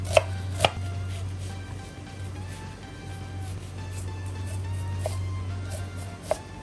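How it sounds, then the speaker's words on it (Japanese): An onion is finely minced with a knife on a cutting board, with sparse, distinct chops, two sharp ones near the start and a few more later, over a constant low hum. "ゆで卵を茹でている間に玉ねぎをみじん切りしていきます"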